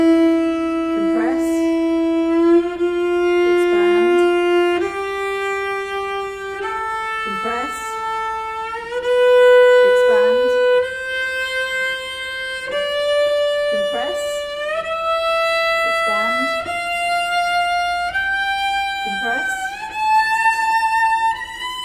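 A bowed string instrument plays a rising scale using the inchworm shifting technique, each note sustained and joined by smooth slides between positions, even and moderately loud with no talking.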